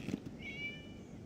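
A cat in the video game Genshin Impact gives a single short, moderately loud meow, a rising then falling tonal call heard alone over quiet ambient background.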